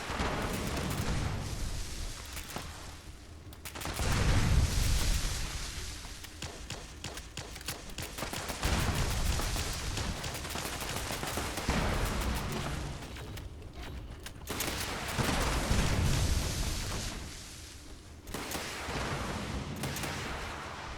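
Commando ballistic weapons in the video game Fallout 76 fire in continuous rapid bursts. The dense, loud automatic gunfire swells and eases in waves.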